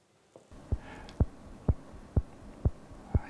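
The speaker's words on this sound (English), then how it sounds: "I hear my heartbeat." A human heartbeat thumps out six evenly spaced, fairly loud beats roughly half a second apart over a low steady hum, with no voices present.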